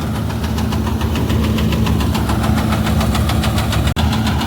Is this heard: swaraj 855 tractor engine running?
yes